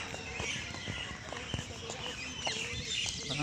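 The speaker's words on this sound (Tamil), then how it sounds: "பறவைகள் சத்தமாக தான் இருக்குது" Birds call and chirp at dawn, heard during a morning walk as it grows light, with scattered short calls at moderate distance over a steady outdoor background; a rooster or farm animals may be among them, and someone speaks.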